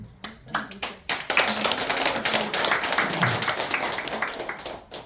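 Audience clapping at a Buddhist temple's new-moon dharma service: a few scattered claps, then dense, sustained applause for several seconds, with a voice faintly beneath it.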